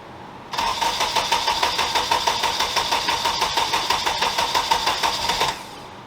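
A turbocharged LS-swapped BMW E36 cranks over with a rapid, rhythmic starter churn that comes in abruptly, runs loud and even for about five seconds, then cuts off without a clear catch.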